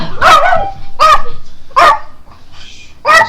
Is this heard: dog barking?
yes